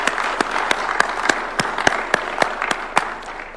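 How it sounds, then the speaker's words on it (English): A round of applause at a State House event in Kenya, with crisp, fairly regular claps ringing out loud and close in a hall. "Let us give her a round of applause."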